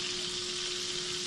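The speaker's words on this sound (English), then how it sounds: "Fully cooked, sizzling like crazy." Spatchcocked chicken in a cast iron skillet fresh from the oven, sizzling and crackling steadily and loudly with a dense hiss, close up and alone.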